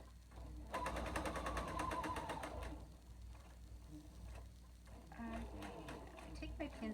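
A sewing machine stitches back and forth over elastic on a batwing mask. Its rapid mechanical whir comes in short close bursts with pauses between them, and a voice talks over parts of it.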